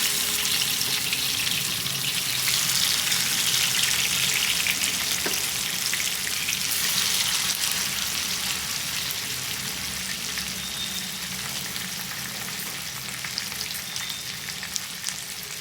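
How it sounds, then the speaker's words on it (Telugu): Small fish frying in a pan of hot oil over high flame, giving a steady, dense sizzle with crackling throughout, with no talking. "ఆయిల్ హీట్ అయ్యాక చేపలను వేసుకొని ఫ్రై చేసుకోవాలండి."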